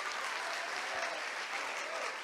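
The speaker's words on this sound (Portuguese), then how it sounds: "Você consegue aplaudir a Jesus pela sua palavra agora?" Church congregation applauding after a sermon's closing prayer, a steady wash of many hands clapping at even strength throughout, with no voices above it.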